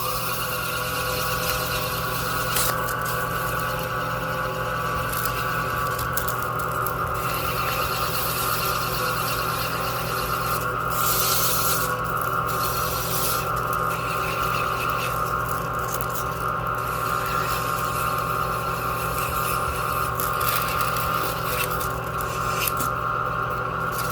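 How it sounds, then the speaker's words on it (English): A wooden lid is sanded with 220-grit paper, giving a continuous abrasive rubbing hiss beneath a steady mechanical hum, with brief brighter scratchy bursts here and there and no speech. "will very quickly sand this, and we're only sanding the lid to 220"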